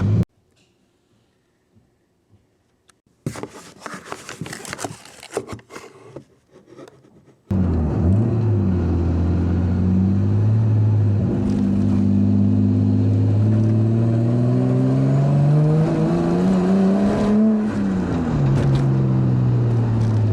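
Nissan Skyline R33 with an RB25DET engine and a highflow turbo, heard on a test drive in traffic: after a short quiet stretch and some rattling, the engine comes in loud and close, revving up and down through the gears with a steady droning rise.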